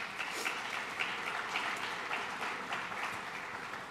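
High school students at an organ and tissue donation awareness assembly clap together, a steady, fairly faint wash of applause filling the room without a break.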